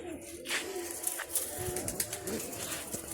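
Pigeons coo nearby in soft, repeated throaty calls, with wing flutters and faint background voices.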